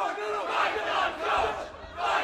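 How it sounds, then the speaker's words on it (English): Wrestling crowd at a Safe Space match chanting in loud rhythmic surges, a dense roar of many voices rising and falling in waves. "And we got a chant right now, fight the coach from the crowd"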